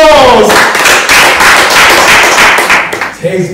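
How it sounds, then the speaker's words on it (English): Loud applause and cheering at an event for a Nigerian singer, a dense steady burst of clapping filling the whole moment, tapering slightly at the end. "A big round of applause!"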